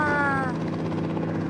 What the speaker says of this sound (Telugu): మనమైతే ఇప్పుడు హెలికాప్టర్లో వస్తాం.